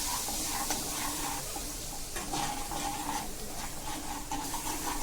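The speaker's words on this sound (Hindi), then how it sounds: "अब इस मसाले को हम अच्छे से भून लेंगे।" Masala of coriander, chili and cumin powder roasts in a pan for chana masala with a steady, close sizzle and frequent scraping stirs.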